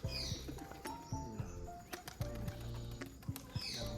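A male pigeon is let go from a cage, its wings giving quick soft flaps up close among faint bird calls, scattered clatter and background voices.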